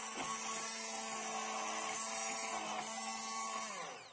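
Sauce being whisked with an electric mixer in a kitchen: a steady, fairly quiet motor whine holding one pitch for about four seconds before winding down, with no speech.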